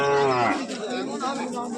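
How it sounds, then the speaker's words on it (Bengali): A native desi cow at a rural cattle market moos once, long and loud, with a falling bellow close by and faint crowd noise behind it. "এটা দেশি গরু"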